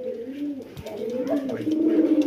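A male Cobra Military pigeon coos up close in a continuous, low, wavering murmur. The cooing swells slightly toward the end.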